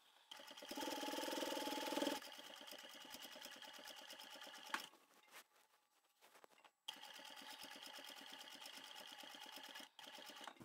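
A sewing machine top stitches a fabric glasses case in quiet, rapid runs of ticking stitches. Its speed varies, with short pauses and a near-silent stop midway before stitching resumes.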